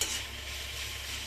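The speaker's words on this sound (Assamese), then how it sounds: "শাক মটৰ আৰু আলু এনেদৰে ভাজিছে" Greens, peas and potatoes stir-fry in a pan with a steady, close sizzle and hiss, continuous and even throughout with no talk.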